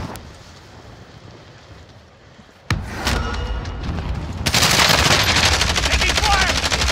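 Gunfire in the Warzone video game: a sharp shot, then sustained loud rapid firing building over a rushing background.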